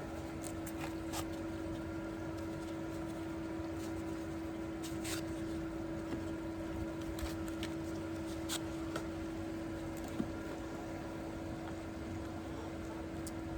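A pool pump runs steadily in a Florida backyard garden, a constant mechanical hum with a sustained tonal whine that continues unchanged throughout, with faint rustling and small handling sounds on top.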